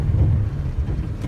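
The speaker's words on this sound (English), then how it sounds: "slamming on the brakes." A pickup truck brakes hard at about 35 mph on a snowy road during a slide test, heard as a steady low rumble of engine and tire noise with some wind buffeting, loud and close throughout.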